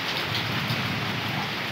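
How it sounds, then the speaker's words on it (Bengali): Steady rain falling at midday, a dense continuous hiss of drops close by, even and unbroken from start to finish. "কিভাবে বৃষ্টি শুরু হয়েছে দেখুন"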